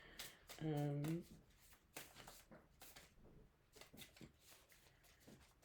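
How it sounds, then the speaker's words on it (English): Tarot cards being shuffled, a series of quick papery riffles and soft flicks in irregular bursts, close and fairly quiet, with a short tonal chime early on and a voice speaking at times. "if there's a lot of shuffling that takes place"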